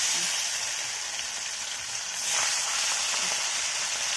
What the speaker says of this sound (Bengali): মধু চাঁদা ভাজা হচ্ছে ভাজা